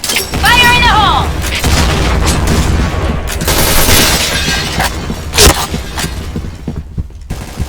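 Grenade explosions and gunfire from the shooter game Point Blank, a dense run of booms and shots with a sharp blast near the middle, while a voice speaks over the battle and a rising electronic tone sounds early on.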